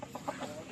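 Gamefowl chickens at a gamefarm in Ilocos cluck softly in a brief run of quick, faint calls from nearby.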